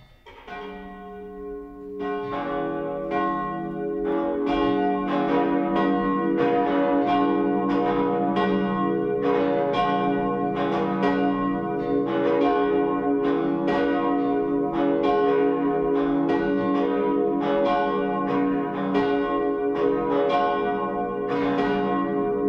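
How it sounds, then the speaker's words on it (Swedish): Cathedral bells peal continuously during a Swedish Lenten Sunday high mass, a loud, rich chime of overlapping strikes that starts after a brief pause and keeps ringing evenly throughout, with no voices. "Låt oss nu lyssna till klockringningen."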